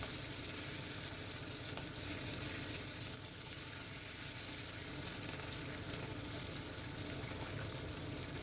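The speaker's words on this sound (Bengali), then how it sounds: "এরপর ইলিশ মাছগুলো একটু হালকা ভেজে নেব।" Hilsa fish pieces sizzle as they fry lightly in a pan, a steady, dense crackling hiss that runs unbroken and fairly quiet throughout, with no voices.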